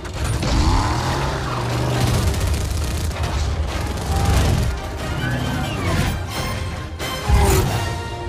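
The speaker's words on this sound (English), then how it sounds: "Archer missiles inbound." Archer missiles slam into a target in an action film, a loud sustained barrage of booming explosions and rumbling blasts with a fresh heavy impact near the end, all under a dense cinematic score.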